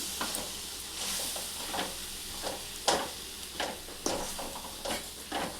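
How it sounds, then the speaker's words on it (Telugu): Rice flour for uppudu pindi is stirred in a pan over a low stove, with a steady soft sizzle and repeated scraping strokes of the spoon every second or so, close and without talking. "స్టవ్ చిన్నగా పెట్టుకొని ఇది మంచిగా ఇట్లా కలపాలి"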